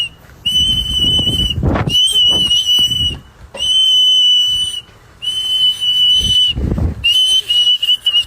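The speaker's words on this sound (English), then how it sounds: "The whistle." A whistle is blown at a street confrontation with ICE immigration agents, giving loud, shrill, sustained blasts repeated with short breaks, with rough noise and voices between them.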